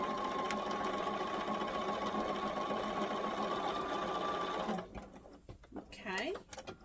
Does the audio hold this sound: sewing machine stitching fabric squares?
yes